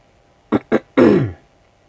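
Two short throat-clearing grunts followed by a longer, rougher throat clear, close and fairly loud, with no talking.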